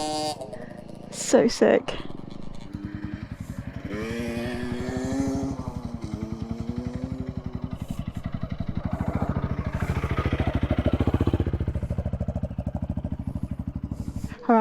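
An enduro motorcycle engine drones loudly and steadily close by, rising and falling in pitch as the bike rides past, with people talking and exclaiming over it.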